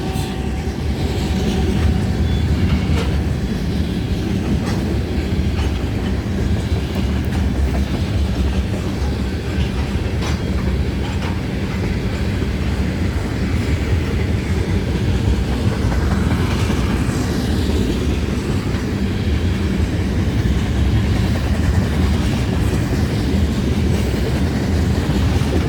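A long freight train with a mid-train DPU locomotive rolls past at night, producing a loud, continuous rumble of railcars with steady clicking wheels and faint squeals, close and sustained throughout.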